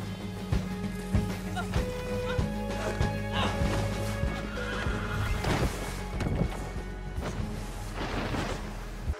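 A horse in the video game Red Dead whinnies and neighs repeatedly over rapid clip-clopping hoofbeats, with thuds and crashes mixed in, close and loud throughout.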